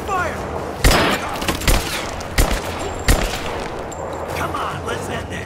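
Gunfire in the Rise of the Tomb Raider video game, four or five sharp, loud shots at irregular intervals over a busy background of combat ambience, with a voice briefly heard.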